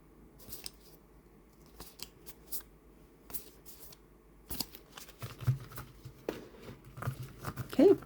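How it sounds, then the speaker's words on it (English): A Halloween tarot oracle deck of somewhat stiff cards is shuffled by hand in soft, irregular bursts of riffling and sliding, quiet and close, with pauses between and a louder flurry toward the end. "quick look at how this shuffles"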